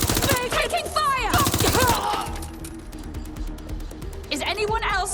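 Video game gunfire in Watch Dogs: Legion: dense bursts of rapid automatic shots at the start and again near the end, with quieter crackling fire between them, under game voices talking.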